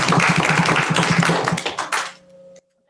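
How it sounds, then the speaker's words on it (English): Audience applause at a school board meeting honoring student award winners, dense clapping for about two seconds that thins into a few scattered claps and fades away. "we'd like to give those young people another hand clap"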